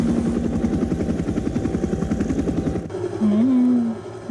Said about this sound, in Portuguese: Já tá no helicóptero, velho.